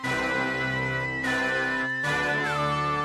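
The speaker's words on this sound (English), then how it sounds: "Let's add a pizzicato." A plucky pizzicato string line sits on top of a hard trap beat made in FL Studio, playing continuously over a dense mix with sustained bass and melodic layers, loud and close with no talking.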